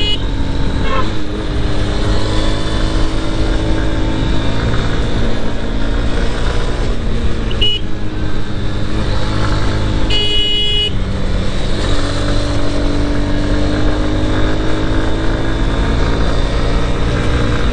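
A Honda Hornet 2.0 motorcycle rides along, its engine a steady loud drone with shifting pitch and rushing wind noise throughout, close and continuous with no voices.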